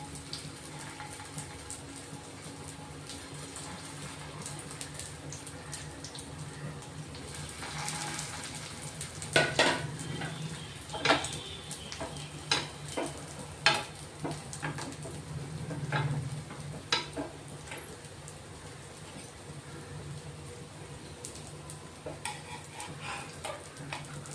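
Protein tikkis laid on a hot tawa with a little oil give a soft, low sizzle throughout, broken midway by a few sharp clinks and scrapes of a utensil, with no talking.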